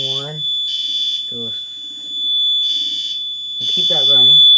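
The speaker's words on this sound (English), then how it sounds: "it'll be sending fire alarm in zone 1" A fire alarm system on test sounds its alarm in zone 1: a loud, steady high electronic tone with pulsing horn bursts, with people talking over it.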